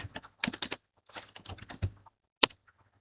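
Keystrokes on a computer keyboard as msconfig is typed into a PC's Run box: quick clusters of crisp clicks in two short bursts, then a single louder keypress near the end, close and alone with no talk.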